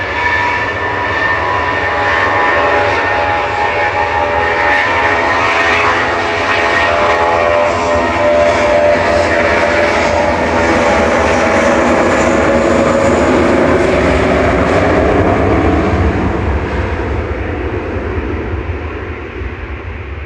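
A 25-year-old Lufthansa Airbus A321 Classic departing Manchester Airport for Munich roars loudly and steadily with jet engine noise, holding strong for about twenty seconds before starting to fade slightly.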